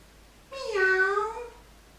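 A single drawn-out meow from an old cat in a children's story, loud and close, lasting about a second against quiet surroundings; the tone may be a human voice imitating a cat.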